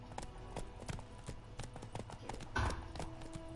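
Roach the horse gallops in The Witcher 3, a fast, rhythmic clip-clop of hooves heard close and quiet, with a brief louder thump partway through.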